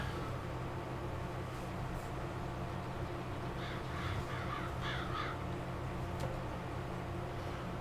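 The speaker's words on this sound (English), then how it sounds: "Hush up, crows." Crows cawing in the farm game Farming Simulator 22, faint repeated caws in a quick burst heard far off over a steady background hiss, with no talk.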